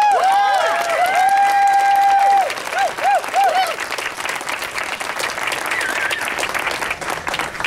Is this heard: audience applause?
yes